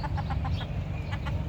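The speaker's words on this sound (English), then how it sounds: "these roosters fighting and stressing out my hens" Roosters in a backyard flock of hens cluck close by in quick, repeated bursts over a steady low background rumble.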